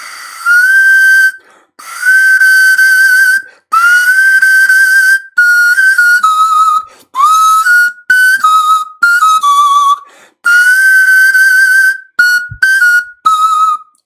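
Breathy pan flute notes, each attack crisply tongued, played in short phrases with brief pauses and slight pitch bends and drops, solo and close.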